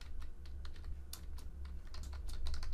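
Rapid keystrokes on a computer keyboard as a prompt is typed, a steady run of close, crisp clicks with brief pauses over a low background hum.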